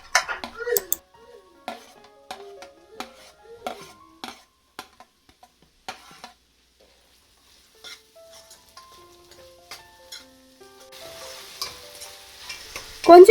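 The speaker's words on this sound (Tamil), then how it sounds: "கொஞ்சம் உப்பு சேர்த்தி வெங்காயத்தை நல்லா வதக்கிக்கோங்க." Chopped onions with ginger-garlic paste sauté in a pan for black chana gravy, with intermittent scraping stirs and clinks of a spatula against the pan over a soft sizzle.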